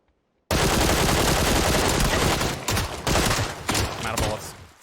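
Sustained automatic gunfire in the shooter game PUBG, dense rapid bursts starting abruptly, loud and close, with brief gaps and stuttering bursts toward the end.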